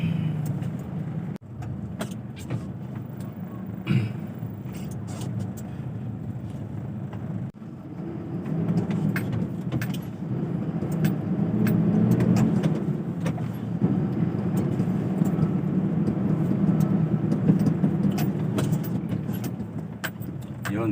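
Rush-hour road traffic near the Biñan and San Pedro boundary in Laguna, heard from inside a delivery vehicle: a steady low engine and road rumble with scattered small rattles and clicks throughout.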